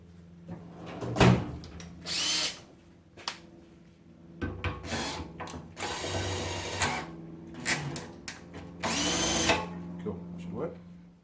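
Power drill whirring up in several short bursts, each spin loud and close, separated by handling noises and quieter pauses, with a steady hum in the background.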